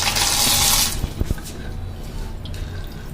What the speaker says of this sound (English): The water is coming forcefully.